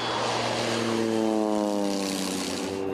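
A firefighting propeller airplane drones overhead above a wildfire, a loud steady roar whose pitch slides down as it passes, heard alone.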